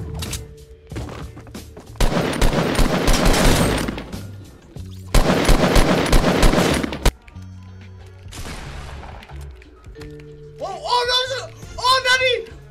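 Burst assault rifle fire in a video game rings out in two long, loud stretches of rapid shots, separated by a short lull, with a brief voice heard near the end.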